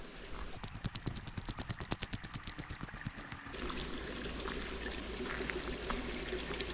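Clear water pours and trickles steadily at a fountain deep in the Forêt de Tronçais, a large oak forest in the Berry; a rapid splashing patter gives way to an even, continuous flow, close and moderately loud.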